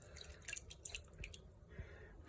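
Water from a small container is emptied into a larger bowl during a physics experiment, giving a quiet run of drips and splashes, close by and faint, with no talking.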